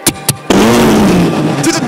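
A sports car's engine starts with a couple of quick starter clicks, then catches into a loud, steady idle that rumbles close by.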